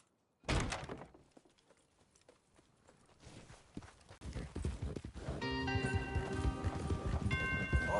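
Rhythmic clip-clop of horse hooves on a hard surface in Red Dead Redemption 2, starting with a sharp thunk, then steady hoofbeats building under music-like tones.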